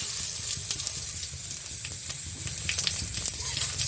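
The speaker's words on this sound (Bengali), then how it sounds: "আর একটা তেজপাতা ছিঁড়ে 2 টুকরো করে দিয়েছি, আর একটু গোটা জিরে ফোড়ন দিচ্ছি।" A torn bay leaf and whole cumin seeds tempering in hot oil in a kadai, producing a continuous close crackling sizzle with small spitting pops, heard on its own.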